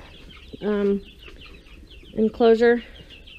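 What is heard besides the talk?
meat chickens clucking in their enclosure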